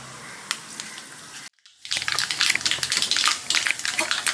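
Mustard seeds crackle and pop in hot oil in a pan while a mango curry is cooked. After a brief silent cut, a busy, close run of sharp, irregular spits and snaps follows, with no talking.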